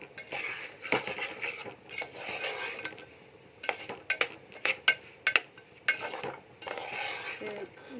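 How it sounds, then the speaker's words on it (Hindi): Semolina halwa roasting in a pan is stirred steadily, with scraping and soft sizzling throughout and a few sharper clinks of the spoon against the pan midway, close and with no talk. "इसे हम चलाते रहेंगे ताकि ये नीचे से पकड़े ना"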